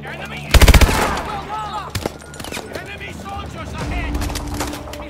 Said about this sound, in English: Back to the automatic weapons, yes.